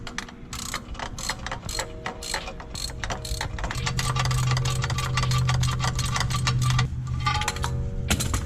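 A ratchet wrench removes a torque converter bolt on a BMW 750i, clicking in fast, even strokes close by for several seconds over a steady mechanical hum.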